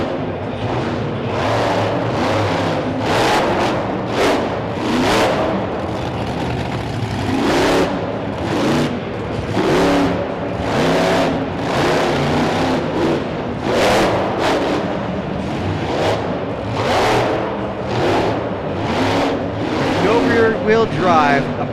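A monster truck, damaged and running hurt, revs its engine hard in repeated surging bursts during a freestyle run in an arena, loud and continuous with crowd noise beneath.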